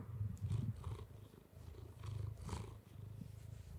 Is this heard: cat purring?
yes